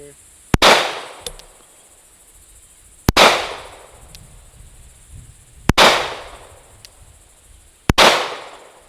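Four sharp, loud gunshots from a pistol with a red dot sight ring out, spaced two to three seconds apart, each followed by a short decaying echo, with no voices between them.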